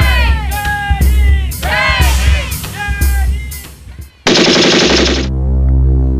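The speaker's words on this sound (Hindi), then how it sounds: "श्री ओक को 3 गोलियां लगी, लेकिन फिर भी उन्होंने ध्वज को संभाले रखा।" Rapid bursts of automatic gunfire crackle loudly, volley after volley, at marchers crossing the Goa border, with shouting voices mixed in, then a sharp hiss and a low rumble.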